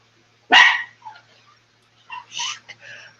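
A pet dog indoors at a workplace gives one sharp close bark, then a series of softer yips and whimpering barks, with no talking.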